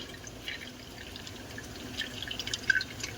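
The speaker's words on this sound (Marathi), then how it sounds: "आता त्याच्यामध्ये आपण सर्व काढून घेऊन पाणी पूर्ण नितळून घेऊया" Soaked lentils for medu vada sit in a mesh strainer over a pot while water drains through, a faint, steady trickle with scattered light drips that grow slightly busier toward the end. No one speaks.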